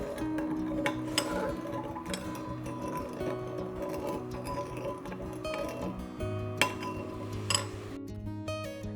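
A spoon stirs sauce in a bowl, making repeated light clinks and taps against the sides at an uneven pace, close and fairly quiet without talking.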